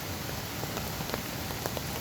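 Rain patters on a tarp at a wet campsite, a constant hiss with scattered sharper drops tapping close by, steady and moderately loud, with no one talking.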